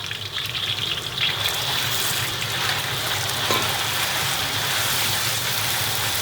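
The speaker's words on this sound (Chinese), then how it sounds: "猪肝下锅。" Sliced pig liver hits hot oil in a wok with garlic slices and Sichuan peppercorns, giving a steady, loud sizzle and crackle throughout with no talking.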